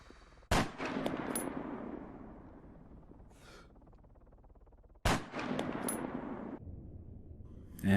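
Two sharp, loud bursts of rapid gunfire from Arma 3 in a fight against a helicopter sniper, each volley a few seconds long, separated by a quieter stretch with a faint distant rattle.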